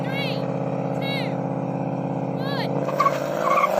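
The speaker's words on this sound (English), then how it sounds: "Oh, wheel spin off the line." An electric BMW 3.0 CSL drag-racing a Mustang spins its wheels at the launch. A steady, loud motor and tyre roar fills the whole stretch, with short squeals rising near the end as the cars pull away.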